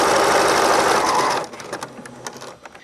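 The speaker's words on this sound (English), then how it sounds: "I'm going to switch back to a straight stitch, and I'm going to stitch about 1/8 inch away from that current seam" A sewing machine runs a straight stitch close to an existing seam, a loud, steady whirring drone lasting over a second before stopping, followed by quiet handling noises.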